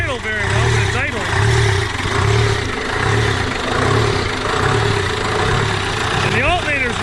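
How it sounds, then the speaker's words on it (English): An old rusty engine idles roughly after an ether start, a loud, close, uneven low pulsing that surges and dips steadily, with a voice heard briefly. "Doesn't really idle very well, but it's idling."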